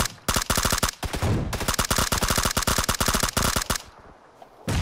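An unscoped M4 rifle fires in PUBG in a small-town firefight, loud, rapid automatic bursts of evenly spaced sharp cracks with short pauses between strings, and no voices.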